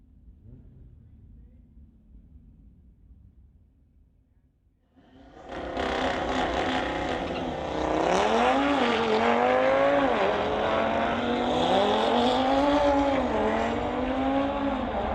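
Audi cars drag racing down the strip at a street-legal drag event: near-silence, then a sudden loud engine roar that builds and holds, with rising revs and gear changes.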